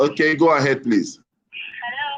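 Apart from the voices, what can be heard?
cat crying in the background of a phone call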